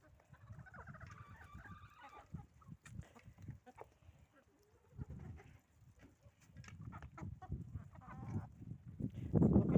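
Geese being fed dry bread honk and cackle in scattered bursts among ducks and other farmyard fowl, with rustling and handling noises nearby and brief talk.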